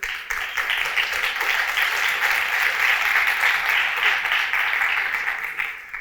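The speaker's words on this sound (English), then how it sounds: "I think you should reserve the clapping till after the talk." An audience at an academic talk on NHS hospital management breaks into applause: dense, even clapping that swells and then tapers near the end.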